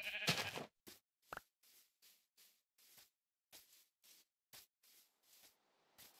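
Sheep in the video game Minecraft bleat repeatedly, about a dozen short, wavering calls in quick succession, fairly close and clear against a quiet background with no talk.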